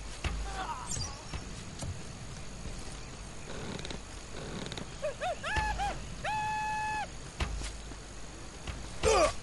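Dogs in the Call of Juarez video game whimper in short rising whines and give a few sharp barks, mixed with game noise and occasional thuds at moderate loudness.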